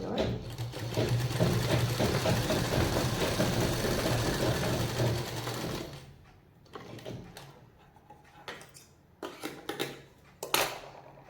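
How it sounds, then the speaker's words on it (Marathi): A sewing machine stitches fabric for a handmade purse, running steadily and loud for about six seconds, then stopping, followed by several short bursts of handling and clicks. "एक शिलाई अशी मारून घेते"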